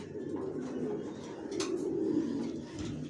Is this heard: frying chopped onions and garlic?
no